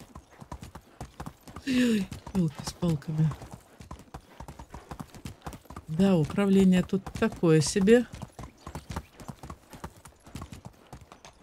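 Horse hooves clopping at a steady quick rhythm in the Medieval Dynasty video game, a close continuous clip-clop running the whole time while someone talks over it in two short stretches.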